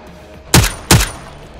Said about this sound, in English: got shot from behind?